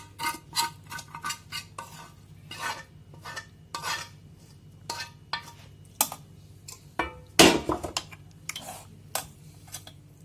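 Caramelized onions being stirred and folded into cooked rice with a spoon, giving repeated soft scrapes and clinks against the pot in an irregular rhythm, close and fairly quiet, with no talking.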